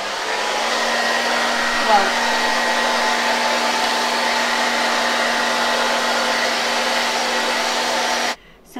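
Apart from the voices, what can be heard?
blow dryer running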